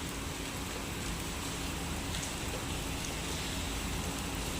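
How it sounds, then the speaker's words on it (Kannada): Heavy rain falls steadily in a dense, even hiss of drops striking surfaces, loud and unbroken from start to end with no voices. "ಜೋರು ಮಳೆ ಬೀಳ್ತಾ ಇದೆ."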